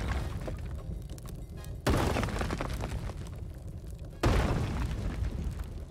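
Bombs exploding in Apex Legends, two heavy booming blasts a couple of seconds apart, each followed by a long rumbling decay over steady background noise.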